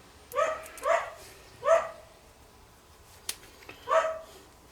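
A dog barks in a handful of short, moderately loud yelps spaced irregularly, heard from a short distance in an otherwise quiet workshop-type space.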